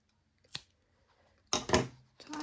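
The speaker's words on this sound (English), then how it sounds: "I'm gonna cut my yarn" Scissors snipping through crochet yarn, a quiet single snip followed by a couple of sharper, louder cuts close by, with no talking.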